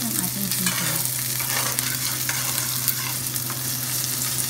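Onions frying and browning in a pan, a dense, steady close sizzle with faint stirring texture and a low hum underneath, no speech.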